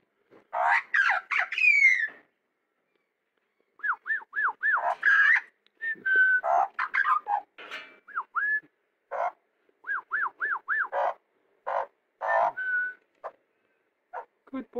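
A seven-month-old West Australian magpie calls in bursts of warbling whistles, squawks and repeated looping notes, close and loud, separated by short silences.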